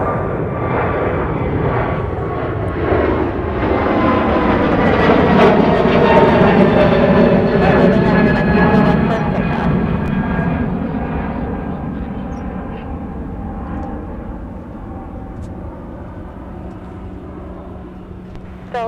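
A Delta airliner takes off at Minneapolis–St. Paul airport, its loud jet roar swelling to a peak and then slowly fading as it climbs away, with a faint radio voice underneath.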